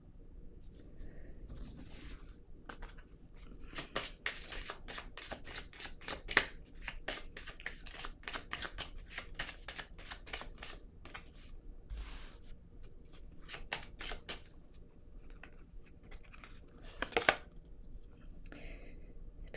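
Tarot cards are shuffled in quick, crisp riffling bursts with pauses between them, soft and close in a quiet room.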